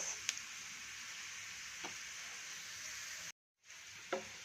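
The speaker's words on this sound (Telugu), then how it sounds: "కాకరకాయలని ఈ విధంగా గోల్డెన్ కలర్ వచ్చేంత వరకు వేయించుకొని పక్కన తీసి పెట్టుకోవాలి" Bitter gourd pieces frying in hot oil until golden give off a steady soft sizzle with a few faint crackles and pops, quiet and unbroken apart from a brief moment of silence.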